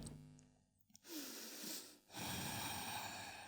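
Deep breaths during a morning yoga routine: a long, faint nasal exhale, then two louder breathy rushes of air close to the microphone, with no talking.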